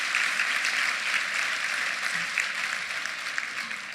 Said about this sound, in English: Let's give both groups a round of applause